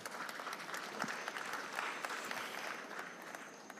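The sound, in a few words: audience applause for the panelists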